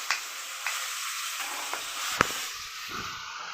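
Tomato chutney frying in a home kitchen pan, a steady broadband sizzle with a few sharp clicks of a utensil against the pan, no voices.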